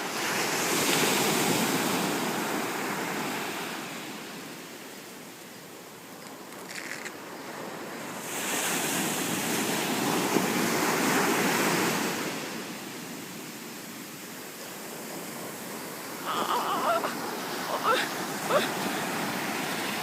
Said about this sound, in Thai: ตอนนี้น้ำทะเลซัดเข้ามาใกล้มาก